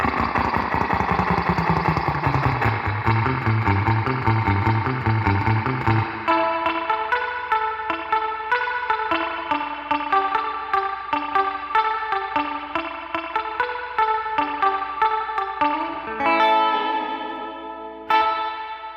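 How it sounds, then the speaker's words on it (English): Sustained musical notes ring out through a long, shimmering metallic reverb wash from a vintage reverb pan, the tail blooming and lingering after each phrase; no voices. "you can hear there's a pretty dramatic difference in the quality of the reverb"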